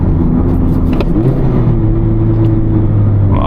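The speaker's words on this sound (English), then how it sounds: "Don't be afraid of revving the engine out a little bit before you shift" A manual car's engine revs up steadily while driving on the road, a loud continuous drone that climbs in pitch and holds before easing off.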